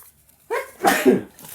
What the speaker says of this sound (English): Yeah, a sneeze.